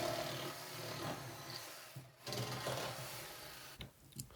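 A jigsaw cuts a rectangle in a sheet of plywood with a rapid chattering buzz, close and fairly loud, dropping out briefly a couple of times as the cut pauses and resumes.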